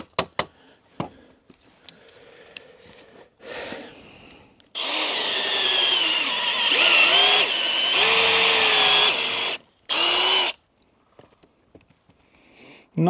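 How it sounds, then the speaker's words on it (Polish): A power drill with a hex-shank auger bit whines loudly while boring into wood, in two bursts separated by a brief pause, with light knocks and handling noises before the drilling. "No dobra, to wiertło teraz idzie dobrze."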